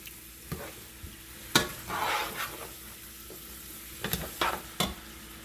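A spoon works sausage and meat around a pot for jollof rice, with scraping knocks and scrapes over a steady frying sizzle, up close and free of speech.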